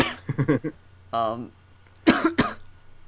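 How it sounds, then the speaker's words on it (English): A person coughs and clears their throat a few times, short harsh bursts between bits of talking. "and I'm coughing"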